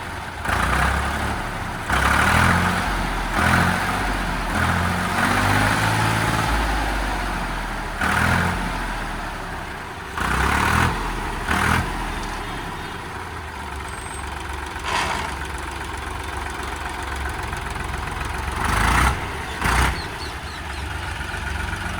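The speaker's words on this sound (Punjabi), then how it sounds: "ਪੂਰਾ ਵਧੀਆ ਸਟਾਰਟਿੰਗ ਆ ਬੜਕਾ ਮਾਰਦਾ" Loud, close diesel rumble from a Mahindra Arjun 605 tractor running steadily, with occasional brief rev surges and clanks breaking through the continuous engine drone.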